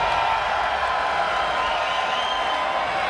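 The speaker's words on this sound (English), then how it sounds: "Crowd, make some noise!" Esports arena crowd at a PUBG invitational tournament, a steady wash of cheering, whooping and clapping filling the hall without pause.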